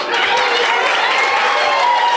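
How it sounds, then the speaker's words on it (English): At a boxing event, the crowd applauds continuously and densely for the whole stretch, loud and close, with only faint cheering mixed into the clapping. "A lot of excitement here in the crowd tonight."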